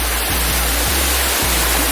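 A backwoods waterfall roars loud and close as a dense, unbroken rush of falling water that fills the whole scene.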